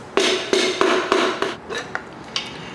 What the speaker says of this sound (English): we're gonna give it a couple light taps with our hammer until it comes out the top of the engine